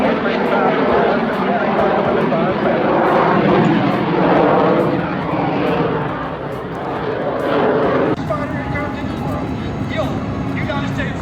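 A US Air Force F-35A jet flies nearby with a steady, loud, broad engine roar that holds throughout, slightly dipping and swelling, with no speech.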